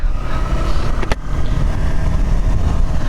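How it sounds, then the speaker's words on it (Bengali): A car pulls away from Boga Lake in the Bandarban hills, its engine a steady close rumble throughout, with one brief sharp click or knock just past the one-second mark. "গাড়ি বের হয়ে যাচ্ছে বগালেক থেকে"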